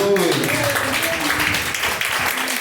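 A congregation in a Portuguese-speaking church applauds with steady, dense clapping that fills the room throughout, while a voice carries on over the applause.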